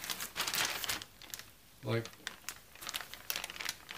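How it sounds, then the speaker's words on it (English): A plastic bag crinkles in bursts of crackling rustles during work on a Ruger Security Six revolver, while someone talks between the noises. "Put all this stuff in a plastic bag."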